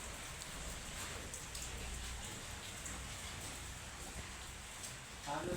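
Heavy rain pours outside a room in Kolkata, a dense, steady hiss of falling water heard faintly from indoors, with a brief louder rustle near the end.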